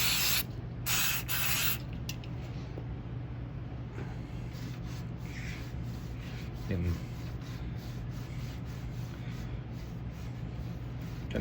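Cleaner sprayed onto a bicycle disc brake rotor in a few close hissing bursts near the start, followed by softer rubbing and wiping sounds.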